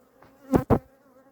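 Honey bees near a hive while an autumn super is taken off for harvest, heard as two short, loud buzzing bursts passing close by within a quiet moment.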